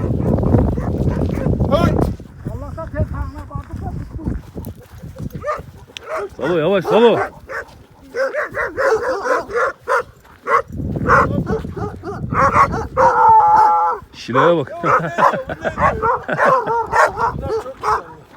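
Dogs in a village bark, yip and whimper in bursts, loud and close, while people talk and laugh over and between the barks.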